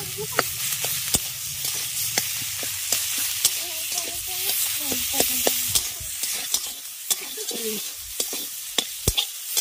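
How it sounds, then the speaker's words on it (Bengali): Banana flower paste stir-fried with potatoes, poppy seeds and cumin gives a steady low sizzle, broken by frequent sharp spatula scrapes and taps against the pan at an uneven pace, with a faint tonal sound in the background. "এবার মোচাটা দিয়ে খুব ভালো করে এটা কষাবো।"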